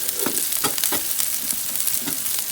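Butter sizzling and frying in a hot pan while making teriyaki rice, a steady crackling hiss with small popping bursts, close and continuous without voices.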